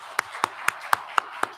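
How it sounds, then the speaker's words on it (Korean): A church congregation at a Sunday morning service claps to congratulate a new member; six sharp, evenly spaced claps sound softly at a measured pace, with no talking. "박수하겠습니다"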